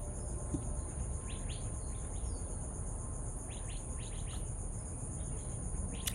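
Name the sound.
birds calling with crickets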